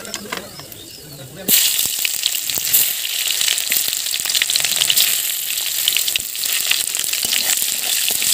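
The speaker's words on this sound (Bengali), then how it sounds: "তেলের মধ্যে ফোড়ন দিয়ে পেঁয়াজটা ভাজা ভাজা করে নিয়েছি" Onions sizzle in hot oil with tempering spices in a blackened kadai while cooking taro, a loud, steady crackling fry that starts abruptly after a quiet moment and continues throughout.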